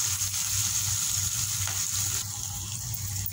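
Raw plantain pieces with curry leaves sauté in a hot pan, a steady close sizzle and hiss that stays even throughout, easing slightly near the end, with no talking.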